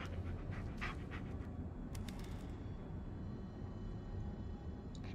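A restless dog panting steadily in the Blair Witch video game, a continuous breathy rhythm close up over a dense ambient rumble, with no talk.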